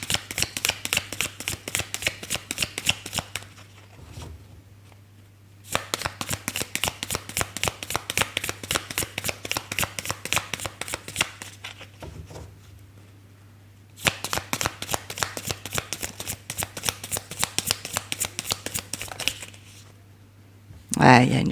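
Tarot cards are riffled and shuffled close up in three long bursts of rapid crisp flutter, separated by brief pauses. A steady low hum sits underneath.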